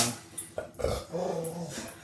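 A dog growls and gives short yipping barks at close range, the sounds rough and uneven over about two seconds, with brief pauses between bursts.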